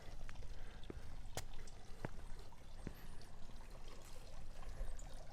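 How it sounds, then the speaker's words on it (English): A small garden water feature trickles steadily beside a sunny seating area by a rose-lined house, giving a continuous close wash of running water. Faint birdsong chirps drift in above it. "Beautiful seating area with morning sun here with the little water feature."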